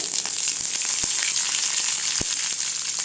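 Mustard seeds and curry leaves fry in hot oil with a loud, dense sizzle, punctuated by a few sharp pops from the seeds.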